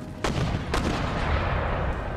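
Artillery fire in the video game Empire: Total War, with a couple of sharp cannon reports cutting through a dense, constant rumble of distant battle noise.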